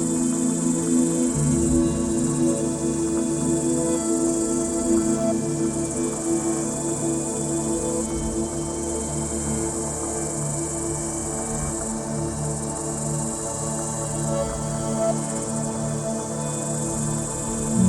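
Cicadas sing in a continuous dense drone with a bright high buzz, loud and steady throughout with no pauses and no voices.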